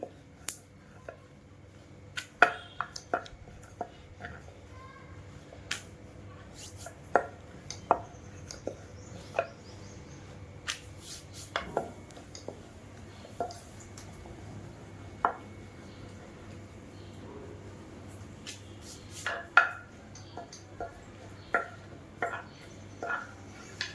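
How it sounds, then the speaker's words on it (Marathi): Thin urad dal papad dough is rolled out, with a quiet, steady run of sharp taps and clicks, a rolling pin knocking on a board at irregular intervals, close up and without talk. "म्हणून मी पातळ पापड लाटणार आहे."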